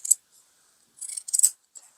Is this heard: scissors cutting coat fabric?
yes